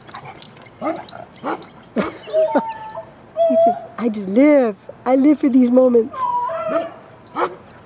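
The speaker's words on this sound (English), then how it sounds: "Oh, I got both beagles barking at you today." Beagles bark, yip and whimper in repeated close bursts, some sharp and some drawn out, while a person talks between and over the calls.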